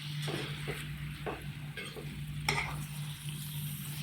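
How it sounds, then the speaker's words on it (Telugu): A spoon stirs chopped tomatoes into bitter gourd curry in a frying pan, giving soft scraping strokes and occasional clinks over a low, steady sizzle and a constant electrical hum. "టమాటాలు వేసిన తర్వాత మంచిగా కలుపుకోవాలి"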